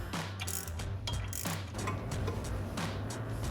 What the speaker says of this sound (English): we're just gonna screw this in there. And then we just want to snug